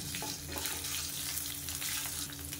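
Steady sizzling of garlic, ginger and coriander seeds frying in oil in a pan, a continuous close crackle with small pops and stirring noises, no voices.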